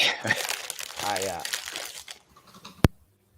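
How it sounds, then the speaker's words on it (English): A potato chip bag crinkles close to the microphone, with crackly rustling bursts under and between a voice talking, ending in one sharp crackle before quiet. "I heard a potato chip bag."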